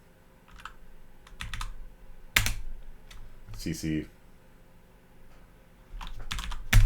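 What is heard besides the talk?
typing commands on a computer keyboard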